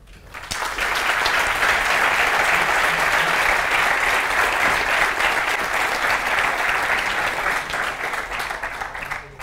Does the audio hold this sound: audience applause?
yes